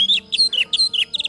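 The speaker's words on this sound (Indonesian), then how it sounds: "Biasanya kalau anis merah sudah rajin ngeplong" An orange-headed thrush sings close and loud, giving quick bright whistled phrases and chirps in a rapid, broken series.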